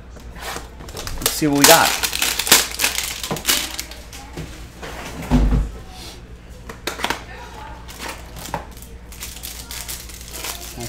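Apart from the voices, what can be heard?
opening a box of football trading cards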